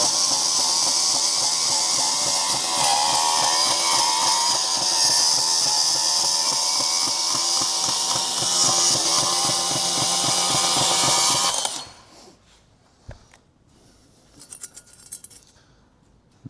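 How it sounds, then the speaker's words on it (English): A Milwaukee M12 FUEL cordless bandsaw cuts through steel, its loud steady whirring blade grind running continuously for about twelve seconds, then stopping abruptly and leaving faint clinks and handling noises. "I still haven't cut the steel with it, to be honest. I usually cut aluminum, so let's give it a go."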